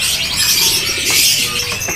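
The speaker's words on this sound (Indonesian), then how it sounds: "Ini dia untuk penampilannya ya dari burung decu mininya" A mini decu bird, the pied bushchat, caged at a bird market stall, sings a fast, bright run of chirps and trills, loud and close, over light background bustle.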